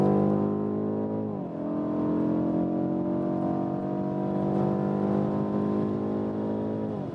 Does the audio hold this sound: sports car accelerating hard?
yes